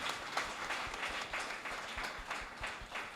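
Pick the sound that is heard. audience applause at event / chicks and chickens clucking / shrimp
audience applause at event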